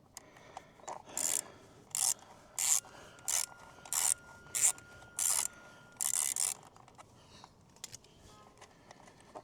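An 8mm socket wrench ratchets on motorcycle bolts, about eight short rhythmic bursts of clicking close by, evenly spaced, then quiet.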